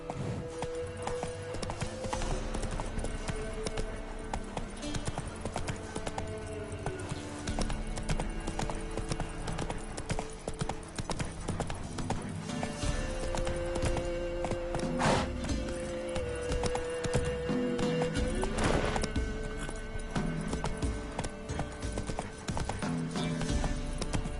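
Roach, a horse in a video game, galloping with rapid rhythmic hoofbeats that continue loudly for over twenty seconds, with whinnies rising over the clatter now and then.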